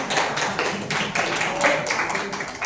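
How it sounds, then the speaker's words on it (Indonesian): A classroom of students claps, scattered hands patting in uneven bursts that rise and fall over a few seconds, fairly close and lively. "Tepuk tangan dulu buat semua."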